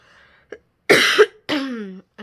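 Several short, sharp coughs from a pregnant woman, close and fairly loud, separated by brief silences, with the last one trailing into a throaty rasp.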